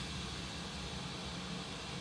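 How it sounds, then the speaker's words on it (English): A steady broadband hiss of pink noise through a Yamaha M32s mixer, constant in level and texture throughout, with no other sounds. "You can hear I'm changing the pink noise."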